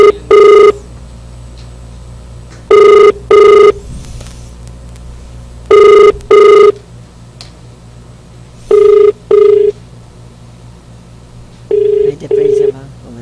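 A telephone rings in repeated double bursts, six pairs of loud electronic trills spread evenly over the span, with a steady background hum between them and no voices.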